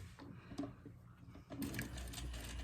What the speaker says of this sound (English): So I'm just going to start by stitching